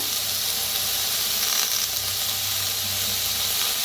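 Vegetables roast in a little oil on a village wood-fired stove for a mixed Bhogi dish, giving a steady, even sizzle and hiss that carries on without a break. No one speaks over the cooking.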